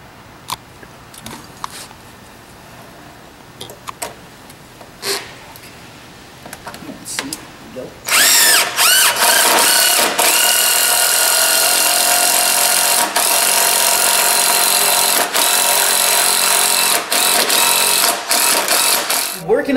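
A power drill bores holes through the wooden frame of a contest catapult for the fulcrum bar. It starts about eight seconds in as a loud, sustained whine with brief dips, after a quieter workshop stretch.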